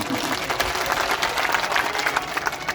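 An audience claps at a political party review meeting, a dense, even patter of many hands that holds steady without voices rising above it.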